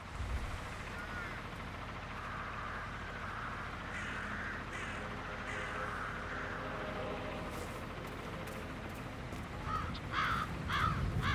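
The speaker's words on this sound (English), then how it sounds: "It's the birds. They're making a racket, droppings everywhere." Crows caw in the video game Hitman 3 over a steady low outdoor hum, with the loudest harsh caws clustered near the end.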